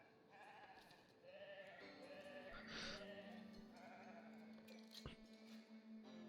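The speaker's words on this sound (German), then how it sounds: "Da läuft jetzt das schwarze Schaf rum" A black sheep in the video game Foundation bleats several times in wavering, nasal calls over a soft ambient background, fairly close and clear with short pauses between cries.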